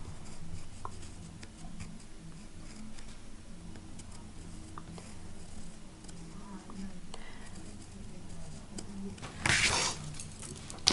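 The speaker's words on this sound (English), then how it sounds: "put your pencil outline in." A pencil sketches a faint outline on a card, with soft close scratching strokes throughout and a brief louder rustle near the end.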